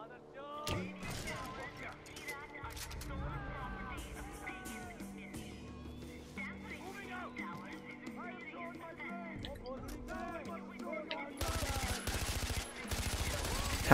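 Gunfire in Far Cry 4 over a busy game soundscape: scattered shots and bursts mix with voice chatter and other effects, and a denser burst of fire arrives near the end.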